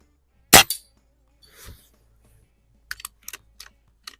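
Gunshots at a shooting range aimed at a metal ram target, with one loud sharp report standing out near the start and a few fainter, quick clicks and taps scattered afterward.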